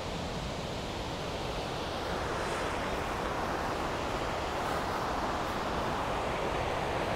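Steady broadband rush of the Yunoo waterfall in Japan, a constant roar of falling water heard from nearby with no speech, unchanging throughout.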